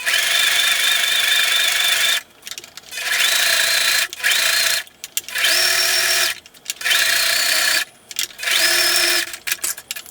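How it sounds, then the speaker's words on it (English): A sewing machine stitches fabric for a slouchy tote bag in several bursts, each a loud, steady mechanical whir lasting one to two seconds, with short quiet pauses between them. "Now just sew as close to sort of the line as you like"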